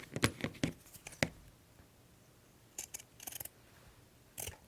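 Scissors snip through folded fabric pieces being trimmed into small pennant flags, a quick cluster of close, crisp cuts followed after a pause by a few more short bursts.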